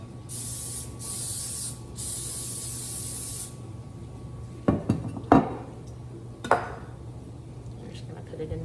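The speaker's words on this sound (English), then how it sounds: "Spray over the sink so you don't slip and fall on the floor." Three quick hissing bursts from a spray bottle over a kitchen sink, followed by a few clattering knocks of dishes in a quiet room.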